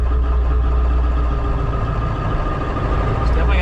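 Engine of a 1995 Ford F350 crew cab truck with a 7.3L diesel running close by, a steady loud rumbling drone with slight throttle swells throughout.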